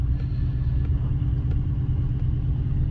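A vehicle drives a rough, remote rural road far out in Utah, giving a steady, loud low rumble of engine and tyres that holds constant, with faint knocks and rattles over the bumps and no talk.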